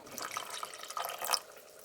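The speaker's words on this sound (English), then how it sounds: "I might pour just a little bit of water in there too" A little water poured into a pot of turkey soup on the stove, giving a close, splashy trickle that swells and fades over about two seconds, with no voices.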